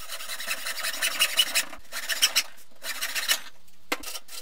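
A cured rocket nosecone part is sanded in repeated close strokes of scratchy, rasping friction, with short pauses between the bursts.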